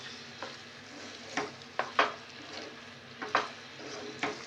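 Rava kesari is stirred in a pan with a utensil, giving soft scraping strokes and light knocks at irregular intervals over a quiet sizzle, close up.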